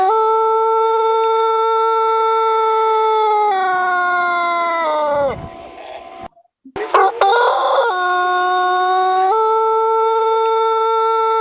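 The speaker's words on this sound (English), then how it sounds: "Could you hear the song of the Pelung chicken" A Pelung chicken, the Sundanese singing breed, crows a long drawn-out song with a sustained melodic tone that slides downward before a short break, then resumes strong and steady, loud and close with no talking.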